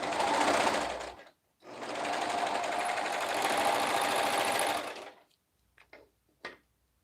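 A sewing machine stitches a romper in two close, steady bursts of whirring motor and needle chatter, a short one then a longer run of about three seconds, followed by a few faint clicks and handling sounds.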